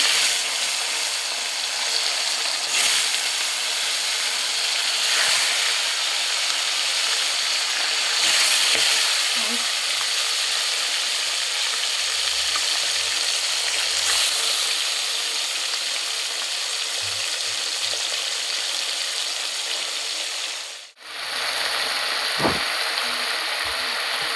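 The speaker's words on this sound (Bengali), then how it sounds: "তেলটা গরম হয়ে গেছে এখন হচ্ছে মাছগুলো দিয়ে" Fish fry in hot oil in a wok with a loud, continuous sizzle and crackle, broken by a few sharper pops and a brief dip where the frying noise drops away.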